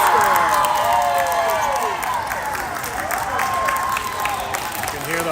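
A full home arena crowd at a junior ice hockey game between the Vegas Jr. Knights and Rocky Mountain Warriors roars and claps steadily, with rising and falling tones over the noise and a commentator talking.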